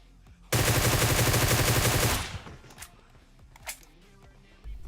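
Automatic gunfire in PUBG Mobile, a loud, rapid burst of shots lasting about a second and a half, cutting off sharply and followed by a few faint distant shots and clicks.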